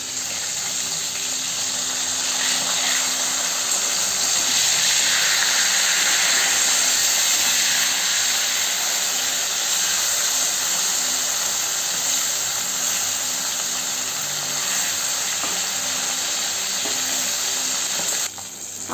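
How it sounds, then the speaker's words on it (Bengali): Green chilli, cumin powder and ginger are ground into a paste with a little water. A loud, steady, unbroken whirring roar carries on for about nineteen seconds, with no voices. "একটু জল দিয়ে আমি হালকা একটু পেস্ট করে নেব।"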